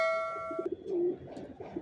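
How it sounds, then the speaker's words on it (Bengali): Cooing from a flock of young adult racer pigeons, soft repeated low coos close by, following a brief steady electronic tone at the start; no talking. "ভিউয়ার্স দেখতে পাচ্ছেন এখানে সব নিউ অ্যাডাল কবুতর"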